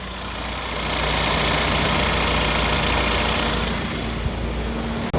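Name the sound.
2018 Genesis G70 sport sedan engine idling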